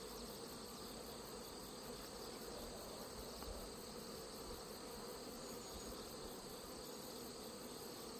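Honeybees buzz steadily inside an open hive during a colony inspection, with newly emerged bees on the frames, a dense, continuous hum that stays even and close throughout.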